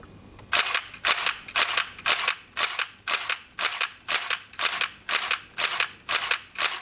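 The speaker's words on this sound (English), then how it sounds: "Let's go, take the rest of these shots." Film camera shutter and winding firing in a steady run of about thirteen sharp mechanical clacks, evenly spaced roughly half a second apart, close and crisp with no talk.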